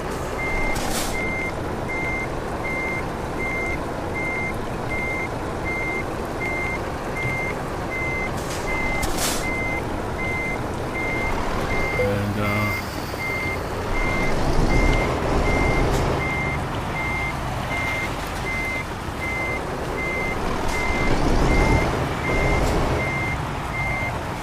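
Truck reversing alarm in Euro Truck Simulator 2, a steady evenly spaced run of loud beeps continuing the whole time over a low engine rumble, with a brief hiss partway through.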